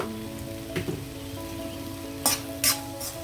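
Capsicum fried rice sizzles steadily in a pan, with a low hum beneath it and a few sharp scraping bursts from stirring near the end.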